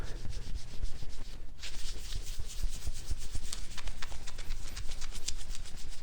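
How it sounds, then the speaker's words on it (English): Rapid rhythmic rubbing as chrome T-tops are polished by hand with Mother's aluminum polish, a close, steady scrubbing that keeps up throughout with a brief pause early on. "So all I'm using is just some Mother's aluminum polish."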